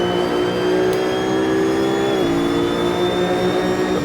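A Maures EGT1 race car in Assetto Corsa holds a loud, steady high engine drone at speed, its pitch dipping briefly as it shifts gears, then carrying on at full volume without speech.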